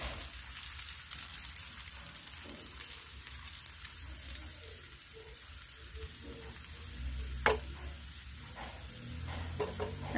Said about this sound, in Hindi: अब इसको हम सिकने देंगे 1 से 2 मिनट।